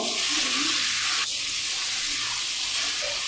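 Fried potatoes and pointed gourd tossed with spices and salt in a pan hiss and sizzle steadily, with a scrape of stirring near the start.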